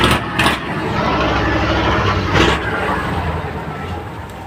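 A motorcycle engine runs close by, a loud steady rumbling idle with a couple of brief revs or bumps near the start and middle.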